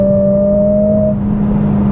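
A Mercedes-AMG CLA45 S in race mode drones close by with a loud, steady exhaust. A higher whining tone fades out partway through.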